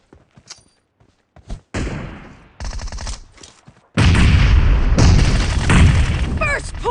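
Video game gunfire from PUBG Mobile during a team match: a few scattered shots, then a sustained loud barrage of rapid shots and booms that fills the second half, with faint voice bits early.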